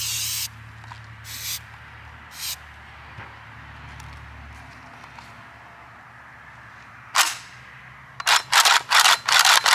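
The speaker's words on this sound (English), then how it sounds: "we got us a can of good old rim oil. Let's give this thing a good squirting." Aerosol rim oil sprayed onto a JTS AK-style 12 gauge shotgun in a series of short hissing squirts, a few spaced bursts early and then a quick string of close, loud sprays at the end.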